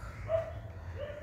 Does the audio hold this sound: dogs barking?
yes